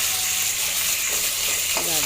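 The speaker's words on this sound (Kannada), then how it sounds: "ಈರುಳ್ಳಿ ಹಾಕೊಂಡು ಚೆನ್ನಾಗಿ ಲೈಟಾಗಿ ಫ್ರೈ ಮಾಡ್ಕೊಳ್ಳೋಣ" Chopped onions sizzle steadily in a pan of hot oil for chicken curry, a constant bright hiss close by, with a brief stir of the spoon near the end.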